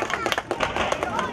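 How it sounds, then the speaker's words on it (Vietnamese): A crowd at the award ceremony of a traditional parish boat race in Cự Tân, 2017, claps in a quick, rough flurry of hands, mixed with murmuring voices. "Chúng ta cùng cho một tràng pháo tay thật lớn"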